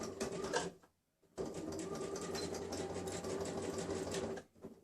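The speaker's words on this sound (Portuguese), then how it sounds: "E você vai costurar só um pouquinho, dando um retrocesso pra prender, então, o elástico aqui, tá?" Sewing machine stitching elastic onto a dress with a short backstitch to secure it, a close, steady mechanical hum and rapid needle chatter in two runs separated by a brief pause.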